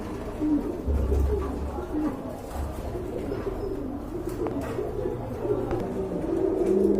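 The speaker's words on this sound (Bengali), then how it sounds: "এখানে কিন্তু এক জোড়া ঘররা কবুতর রয়েছে" A pair of Ghorra pigeons cooing in low, repeated murmurs, fairly faint, alongside background chatter and a low hum.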